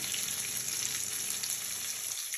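Curry leaves dropped into hot oil for tomato chutney, a continuous bright hissing sizzle that stays even and close throughout with no talking.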